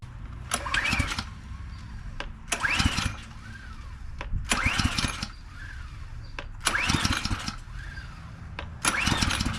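A Ryobi small engine, unused for years, is pulled over repeatedly without catching. Five loud, close bursts of rough cranking come roughly every two seconds over a steady background hum.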